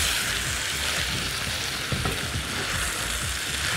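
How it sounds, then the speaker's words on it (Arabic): Rice frying in a pan while being stirred, steady close sizzling with soft scraping bursts from the stirring. "هقلب ده كويس قوي يتحمر قبل ما انزل عليه او ارجع له الفراخ تاني"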